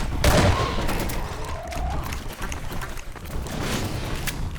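Shotgun blasts in Half-Life 2, loud booming shots with dense game action and noise around them, no speech.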